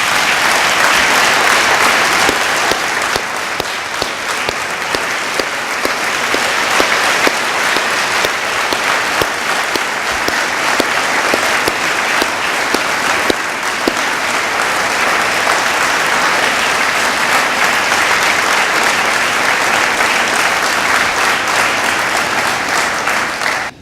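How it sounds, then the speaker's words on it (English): A seated audience gives a long, sustained round of applause for a woman standing up at an evening talk, the dense, loud clapping running unbroken for over twenty seconds. "if we could give her another round of applause"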